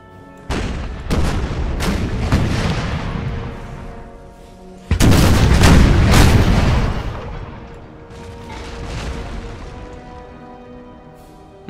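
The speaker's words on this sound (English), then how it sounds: "look at those heavy cannons" Heavy cannon fire in Empire: Total War (Imperial Splendour mod): repeated deep booms and blasts rolling together into a loud, continuous barrage with a big surge halfway through.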